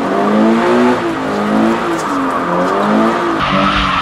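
A Toyota 86/BRZ drifts with loud, sustained tire squeal and a wavering engine note, close and continuous, with a brief shift near the end.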